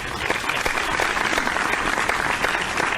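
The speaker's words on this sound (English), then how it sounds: "Hold the applause till later on" An audience applauds at the opening of a sports and politics talk show, a steady wash of clapping and crowd noise throughout.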